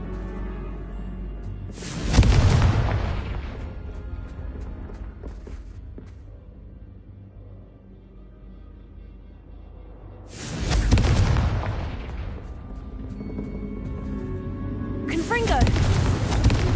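Confringo blasting spells from a Harry Potter video game go off as two heavy booming blasts several seconds apart, each a sharp loud burst with a rumbling tail, plus a third starting at the end, over a low game background.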